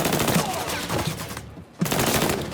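Rapid automatic gunfire in Mafia III, loud and dense bursts near the listener, breaking off for a short pause before another burst resumes.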